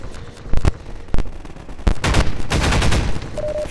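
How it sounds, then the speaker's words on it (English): Enemy gunfire in Half-Life 2, a few sharp separate shots early on, then a thicker burst of rapid firing building toward the end, loud and close with no talking. "So many people are shooting us."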